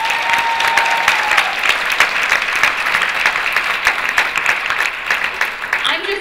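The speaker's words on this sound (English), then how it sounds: "If we can give them a round of applause." Audience at a Martin Luther King Jr. Day celebration in Brookline breaks into loud, sustained applause, many hands clapping densely and steadily, with a faint tone early on.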